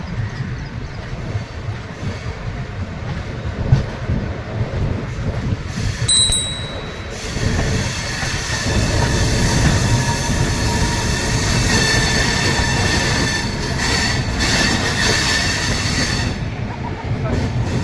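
Train arriving at Manikpur Junction station: steady rumbling wheels and rail clatter rising in loudness, with brief high wheel squeals and faint background voices.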